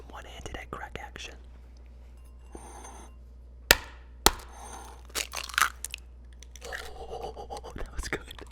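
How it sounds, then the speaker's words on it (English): Eggs cracked one-handed against a hard edge in a quiet home kitchen, heard as two sharp close knocks followed by soft shell crackle and faint dripping rustle, with some whispering around them. "Some one-handed egg crack action."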